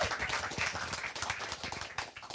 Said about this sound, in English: You can clap, guys.